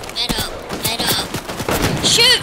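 Nighthawk gunfire in the video game Fortnite, a rapid volley of sharp shots fired close together, with excited voices talking over the shooting.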